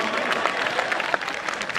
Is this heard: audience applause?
yes